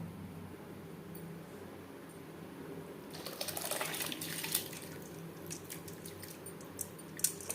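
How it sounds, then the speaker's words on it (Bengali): Masoor dal lentils are washed in water: quiet rustling for a few seconds, then close wet squishing and splashing as the lentils are rubbed and stirred, with small clinks near the end. "ডাল আমি পরিষ্কার করে ধুয়ে নেব"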